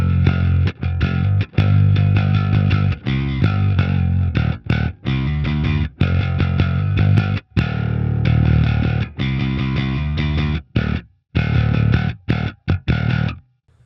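A heavily distorted bass guitar through an STL Tones Graviton amp plugin, playing a loud, chugging riff with sharp stops and short gaps between phrases.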